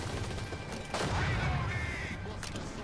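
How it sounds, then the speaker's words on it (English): Shotgun gunfire in the video game Crime Boss: Rockay City, a loud close blast near the start of a dense burst of game combat noise, followed by a sustained roar of mixed shots and effects. "This is a shotgun."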